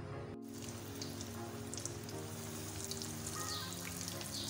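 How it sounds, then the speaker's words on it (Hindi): Vegetable cutlets coated in egg and bread crumbs fry in a pan, giving a steady, soft crackling sizzle with faint popping and no talk. "अब मैं इसको फ्राई करती हूँ।"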